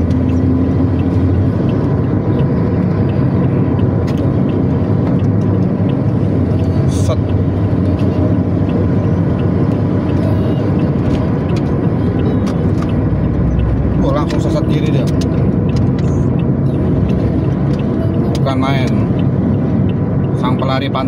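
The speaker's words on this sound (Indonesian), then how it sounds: "Ada bus Pantura Madonna Netral." A Pantura Madona Netral coach bus on the Cirebon–Jakarta route rumbles loudly and steadily with heavy engine noise, and brief horn-like blasts come near the end.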